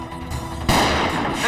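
A single gunshot rings out inside a movie theater, a sudden loud crack about halfway through, followed by a dense reverberant wash that stays loud to the end.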